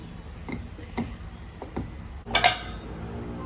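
A spoon clinks and scrapes in a pan while sweet sheera (rava kesari) is stirred with ghee, giving a few soft rhythmic taps and then one louder metallic clatter near the end, close by and otherwise quiet.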